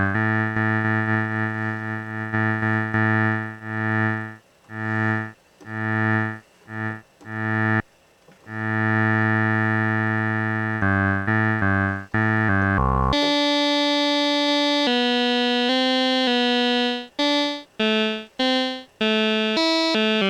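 A Yamaha CS-15D analog synthesizer plays a run of buzzy, sustained tones, starting low and then jumping to brighter, higher notes with short gaps between them. No voices are heard.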